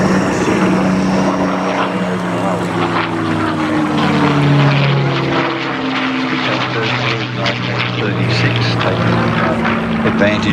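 Hawker Hurricane propeller fighter with a Rolls-Royce engine flying past at an RAAF airshow, a loud sustained droning engine roar with shifting pitch throughout, with a commentator's voice audible over it.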